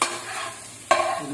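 Chicken pieces sautéing in a pan for a Punjabi-Maharashtrian chicken dish, a steady close frying hiss that thins out, then surges back louder for the final moments as the pieces are stirred.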